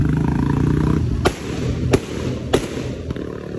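Fireworks rockets at a night turf cricket ground burst in three or four sharp, loud cracks spaced about half a second apart, over a steady low rumbling background.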